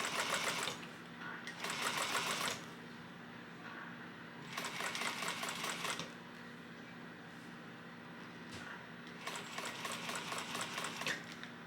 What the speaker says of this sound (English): You're going to top stitch at 1/8 of an inch seam allowance.